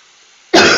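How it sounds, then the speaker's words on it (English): A single sudden, loud cough bursts out after a moment of near silence. "I'm still coughing a fair bit"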